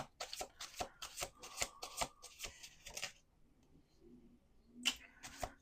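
Tarot cards being shuffled by hand during a reading, a quick run of crisp riffling flutters for about three seconds, then a pause and a couple of isolated card snaps, close and moderately loud, with no talking.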